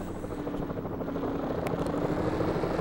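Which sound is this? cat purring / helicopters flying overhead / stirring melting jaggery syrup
helicopters flying overhead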